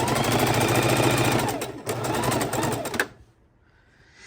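A sewing machine runs steadily stitching quilt fabric scraps, its rapid mechanical whir continuing for about three seconds with a brief pause, then stopping abruptly into near quiet.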